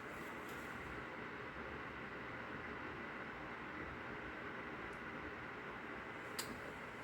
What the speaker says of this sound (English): let you hear how relatively quiet the fan is